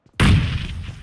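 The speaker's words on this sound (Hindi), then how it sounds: "यहाँ मैं थोड़ी सी प्री फायर के साथ जाता हूँ" A single close, loud gunshot in PUBG Mobile, fired pre-emptively around containers, hits sharply and leaves a short booming tail.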